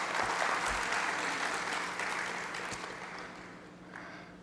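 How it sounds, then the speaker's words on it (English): Audience applause at an opening-remarks event, a moderate wash of clapping that holds steady and then slowly thins out over a few seconds. "So can I hear a round of applause for Romesh?"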